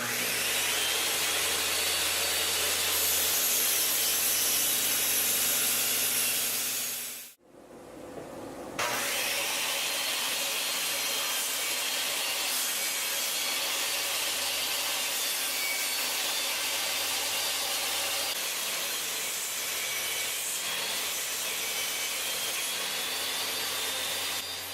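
A homemade table saw with a sawdust deflector cuts through wood, its steady loud whine and grinding rasp running continuously apart from a brief drop near the start before the blade bites again.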